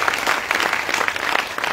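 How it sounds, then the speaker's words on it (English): Audience applause for Sierra Leone's First Lady, Dr Fatima Maada Bio, a dense, steady patter of many hands clapping at an even level for a short burst. "Una clap for first lady"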